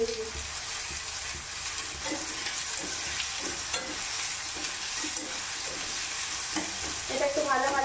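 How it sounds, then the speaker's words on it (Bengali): Chopped onions and green chillies fry in a pan with a steady close sizzle, broken by repeated spatula stirring scrapes and clicks; the hiss swells briefly near the end. "এটা একটু ভাজা ভাজা হবে, লবণ দিয়ে দিই, যাতে পেঁয়াজটা তাড়াতাড়ি হয়ে যায়"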